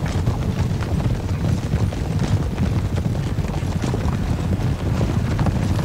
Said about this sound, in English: One of my units of cavalry will go charging into them